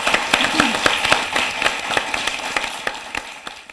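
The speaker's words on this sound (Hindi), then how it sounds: "एक बार जोरदार तालियां उनके लिए बजाएं" An audience at a Hindi poetry recital gives a poet a round of applause: sharp, distinct handclaps, fairly close, landing in a loose rhythm for a few seconds and thinning out toward the end.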